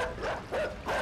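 A dog in the video game Inside barks three times in a rising, yelping pattern at evenly spaced intervals, moderately loud and not far off, with no talking.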